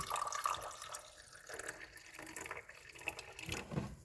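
Vinegar pours from a container into a measuring cup for a homemade lava lamp, a continuous close trickle and splash lasting a few seconds with no talk.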